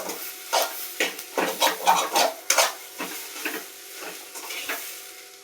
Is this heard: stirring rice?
yes